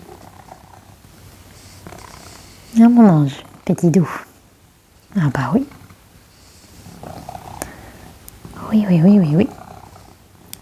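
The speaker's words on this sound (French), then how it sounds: "Je sais pas si vous l'entendez ronronner." A pet cat named Capou purrs close by, a low steady rumble running under a woman's soft affectionate French talk, with her voice rising in short bursts over it.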